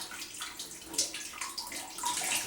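Coconut water poured from a freshly opened coconut through a strainer, a steady splashing trickle that runs for a couple of seconds with no talk.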